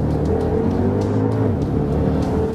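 A Porsche Panamera Turbo launches hard under launch control, its engine a loud, close, sustained roar with rising harmonic tones as it pulls away, no talking over it.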